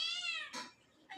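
A house cat meows twice, a drawn-out high cry followed by a shorter one, faint and close with no other sounds.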